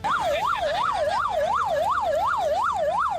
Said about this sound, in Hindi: इस बीच वहां एक एम्बुलेंस भी पहुंची, जिसे किसानों ने आसानी से रास्ता दे दिया।